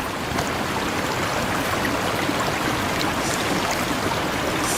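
Water disturbed by someone swimming at night, a steady, loud rushing and splashing wash of water that runs continuously without a break and with no voices.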